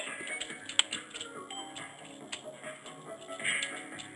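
Computer keyboard keys tapped rapidly and unevenly while playing a hard video game, a near, continuous clatter of light clicks with a few sharper hits.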